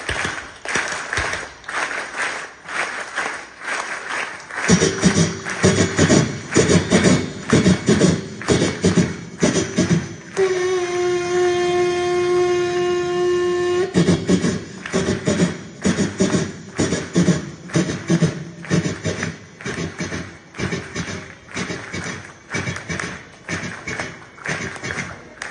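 Students in a classroom clap in a train rhythm, loud repeated hand claps with a steady chugging beat, paused midway by a brief steady tone before the rhythmic clapping resumes.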